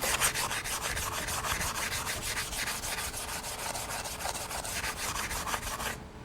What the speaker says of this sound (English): Now I'll clean the joint in preparation for welding.